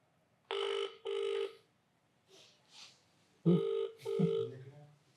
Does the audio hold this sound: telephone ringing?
yes